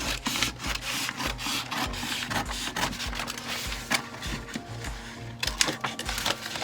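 Scissors or a blade cut through a paper swimsuit pattern, giving close, rhythmic scratchy snips and rustling strokes in quick repeated bursts, with paper crinkling between them.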